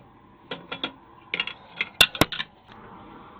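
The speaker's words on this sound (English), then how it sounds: "when you spin this around, it moves this brass piece back and forth" The dressing mechanism of a Wissota Foley S8B skate sharpener is turned by hand, moving a brass piece back and forth and giving a quick run of faint metallic clicks and ticks, with two sharper knocks near the end.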